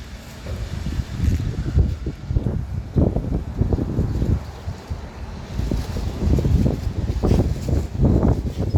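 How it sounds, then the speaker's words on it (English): Wind buffets the microphone in gusty, rumbling bursts, loud and steady throughout with no voices. "Sorry, it's really windy here today."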